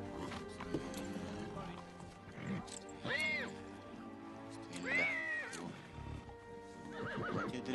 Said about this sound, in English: He was my cousin's horse.